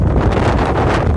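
Strong wind blows outdoors near water, buffeting the microphone with a loud, continuous low roar that surges slightly throughout.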